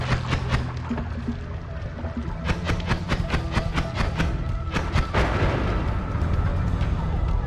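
Booming blasts in the roguelike game Noita, several sharp bursts landing over a dense, continuous rumble of crackling game noise, strongest around the middle and toward the end, with no talking.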